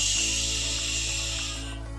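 A snake gives a long, steady breathy hiss, bright and sustained, close by and fading slightly toward the end, over a faint low hum.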